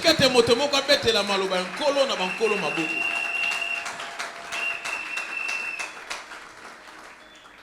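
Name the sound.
congregation applauding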